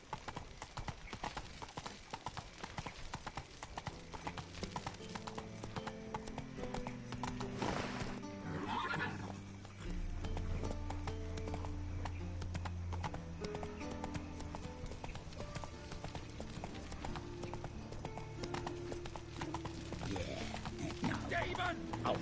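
Horse hooves clip-clopping in The Witcher 3, a rapid galloping rhythm with a whinny, close and loud over game music and a low rumble, with a voice briefly speaking.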